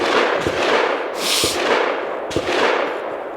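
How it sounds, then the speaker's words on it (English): Gunshots from people shooting outdoors, a few distant booming reports spaced about a second apart over a steady background hiss, with no talking. "we got people shooting out here"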